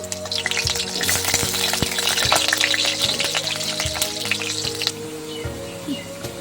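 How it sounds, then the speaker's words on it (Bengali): Potatoes fry in hot oil in a home kitchen while making chicken biryani, a loud steady sizzle with clattering stirring strokes and a few scrapes throughout. "তেলটা গরম হয়ে গেছে, এবার আমরা আলুগুলোকে ভেজে নেব।"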